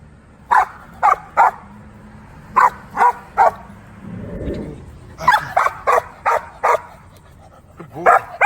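Puppies barking during a protection training session, a series of sharp, close barks in short bursts of two and three, with a brief low rustle in the middle.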